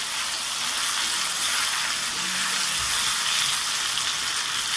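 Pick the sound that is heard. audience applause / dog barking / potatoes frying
potatoes frying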